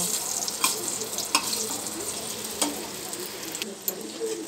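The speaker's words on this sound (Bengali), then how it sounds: "ডালে বড়িটাকে একটু জলে ধুয়ে ভেজে নিচ্ছি, তাহলে তেল কম লাগে।" Washed lentil bori (sun-dried dumplings) frying in a little oil, a steady close sizzle with occasional sharp pops and stirring scrapes throughout.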